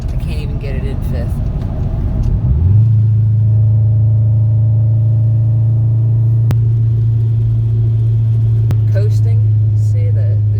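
2003 Honda Civic driving with a steady loud engine drone after a gear change, the driver struggling to get it into fifth gear, with a couple of sharp clicks over the hum.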